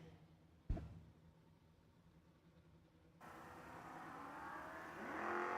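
Footbrake drag racing cars, a Cutlass and a Malibu, sit quietly before a sharp thump, then engines roar down the track in a rising, sustained drone that grows louder toward the end, with no talk.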